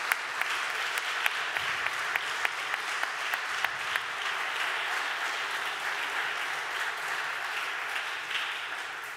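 A church congregation applauding during a Sunday service, steady dense clapping throughout with a few louder claps standing out, moderately near and without talk.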